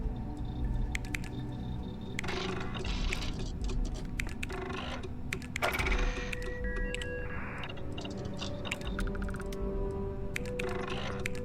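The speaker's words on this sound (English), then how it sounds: "I know it sounds like I'm typing up a storm here" Rapid, irregular keyboard typing with clustered bursts of key clacks, loud and close, continuing through the whole stretch over a low background hum, with no talking.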